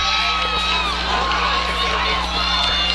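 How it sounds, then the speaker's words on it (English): Mountain View football fans cheer loudly from the stands at a high school game against James Monroe, a sustained crowd roar with whoops and shouts that persists steadily throughout. "Mountain View fans cheering hard across the way, rightfully so"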